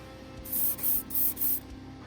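Four short bursts of spray paint hiss in quick succession, close and even, as very light coats go onto a Hot Wheels Firebird.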